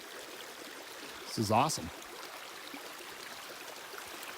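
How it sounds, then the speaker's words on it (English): A babbling brook on the Skyline trail in Jasper National Park gives a steady, soft wash of running water throughout, with someone briefly speaking over it near the middle. "This is the first place that has a nice babbling brook"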